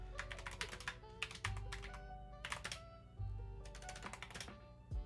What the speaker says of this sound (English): I'm typing things in that we've talked about